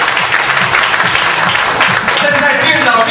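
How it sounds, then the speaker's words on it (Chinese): Loud, warm applause from a large seminar audience as people stand, a thick continuous roar of clapping close and steady for the whole stretch. "给那些起立的观众热烈掌声鼓励一下"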